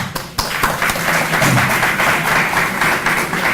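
An audience at a university entrepreneurship summit keynote breaks into applause, a dense burst of clapping that swells quickly and holds steady for a few seconds, close and loud with no talk over it.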